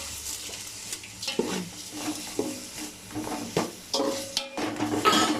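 Garlic and ginger sautéing in a pan with a steady sizzle, while a utensil scrapes and stirs at close range in repeated strokes.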